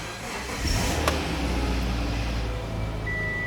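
A Subaru engine, just back together after a head gasket job, cranks and fires up, then settles into a steady idle that runs close by and fairly loud. Nobody speaks over it.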